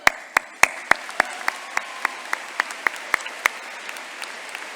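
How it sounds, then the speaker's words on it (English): Evenly spaced, sharp claps ring out at a steady rhythm during a 2016 Whitehall High School graduation ceremony, fairly close and distinct over a low hall murmur, with no talk. "How about a round of applause?"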